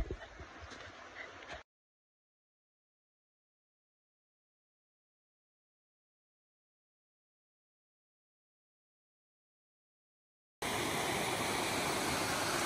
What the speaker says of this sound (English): A little waterfall action going on.